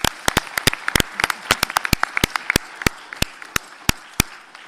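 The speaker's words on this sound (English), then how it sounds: "Let's applaud them." Sparse, distinct hand claps at a field hearing on gun violence, a small scattering of individual sharp claps at irregular intervals, close and crisp against a quiet room.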